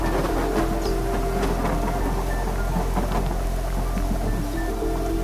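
Heavy rain pours steadily in an animated story, with rumbles of thunder rolling beneath the dense patter, loud and continuous.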